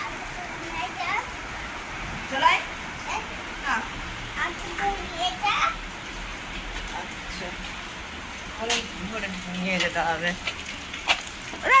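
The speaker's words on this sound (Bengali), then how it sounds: "আমার সময় বৃষ্টি এসে গেল।" Heavy rain falls steadily in an outdoor street setting in Kolkata, a continuous wash of patter running throughout, with children's voices and chatter audible over it.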